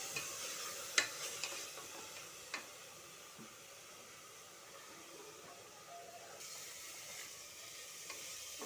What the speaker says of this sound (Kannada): ಇದು ಸೊಪ್ಪು ಬಾಡವರೆಗೂ ನಾವು ಇದನ್ನು ಫ್ರೈ ಮಾಡಬೇಕು